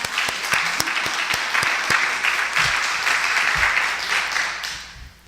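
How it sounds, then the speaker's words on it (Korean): A church congregation claps together during a Sunday service, giving glory to God. Loud, steady applause fills the room with a few sharp, distinct claps standing out, and low rumbles underneath. "우리 박수로 하나님께 영광 돌리십시다"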